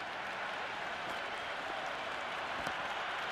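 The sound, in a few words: crowd cheering in Cricket 26 video game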